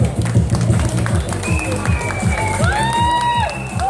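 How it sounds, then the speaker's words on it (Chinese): An audience welcomes a singer onto the stage at a song-launch and autograph event with steady clapping and crowd noise, while a voice calls out over it and a brief musical tone rises near the end. "来，掌声欢迎"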